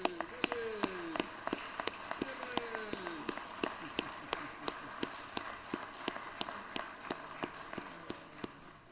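Applause in the Georgia Senate chamber, a fast patter of many hands clapping with sharp individual claps standing out, filling the room at moderate loudness while a few faint voices murmur underneath.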